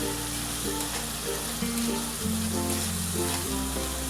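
Salted onions fry in a pan for a spicy misal, giving a steady, even sizzle with background music of held tones.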